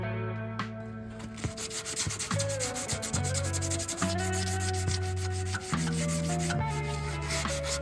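A wire wheel strips rust from around a car's battery tray, giving a steady, close abrasive scrubbing that runs throughout with music playing underneath.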